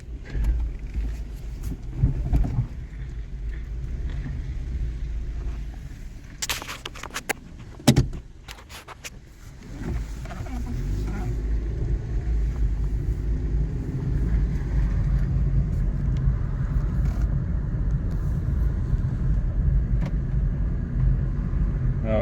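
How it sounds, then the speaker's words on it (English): Interior of a Nissan Versa with a CVT on a test drive. Door and window clunks and rattles come first, then the engine's low, steady rumble settles in and continues alone. "The engine runs great on this little car."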